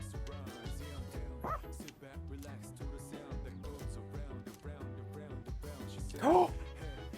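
A dog barking in the video game Persona 3 Reload comes as a brief yip near the end, over dense game music that plays throughout.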